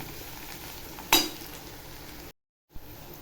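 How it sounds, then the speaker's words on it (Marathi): Green chillies fry in a pan for a spicy brinjal, pea and potato curry, a soft continuous sizzle with one sharp clink of a utensil, then a brief gap of silence before the sizzle resumes. "मिरची पण बघा चांगली अशी फ्राय करून घ्यायची"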